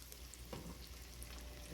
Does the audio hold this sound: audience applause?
no